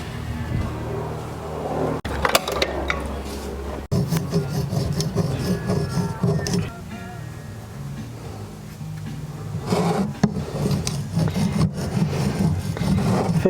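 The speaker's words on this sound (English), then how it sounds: "I'm gonna get a scraper." A scraper rasps old built-up crud off the pinion of a 1966 Buick Riviera in uneven bursts of close scraping and rubbing, with occasional clunks and a low rumble running underneath.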